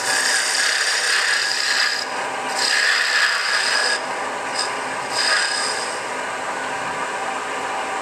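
Wood being thinned on a lathe with a skew chisel for a winged box, a loud, close, steady hissing shear of the cutting edge on spinning wood, with brief pauses and changes in pressure and no talking.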